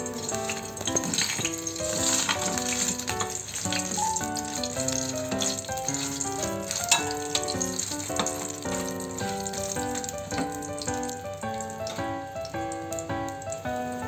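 Eggplant sizzles in hot oil or melted margarine in a pan, a steady close crackling hiss with dense spitting pops throughout, no talk.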